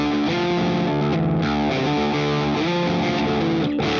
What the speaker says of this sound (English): That's just Strymon Iridium distortion by itself